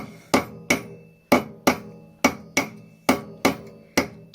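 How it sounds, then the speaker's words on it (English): Ten sharp cross-peen hammer blows ring out on sheet metal during anticlastic raising, at a steady, unhurried pace, each strike clanging briefly before fading. "with the angled end of the cross-peen hammer I'm then putting in a reel"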